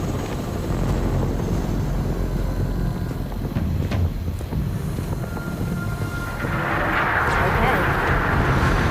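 A helicopter in the VR video game Arizona Sunshine 2 drones with a steady rotor thrum and engine whine throughout, growing louder toward the end, while a voice talks over it.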